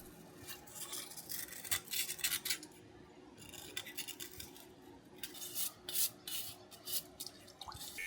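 Sand being scrubbed out of a homemade iron ingot mold, with repeated brisk scratchy rubbing strokes in irregular bursts, close and fairly quiet, no voices.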